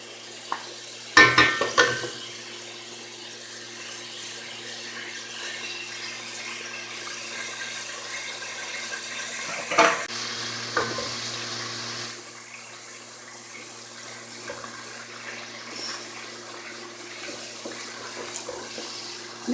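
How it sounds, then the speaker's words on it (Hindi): Garlic-ginger paste hits hot oil in a pan with a sudden loud sizzle, which settles into a steady frying crackle that continues throughout. Brief stirring clatters can be heard partway through. "ऑयल थोड़ा जिहा गर्म हो गया और मैं इहदे च डाल दिंदी है पेस्ट लसन अदरक का।"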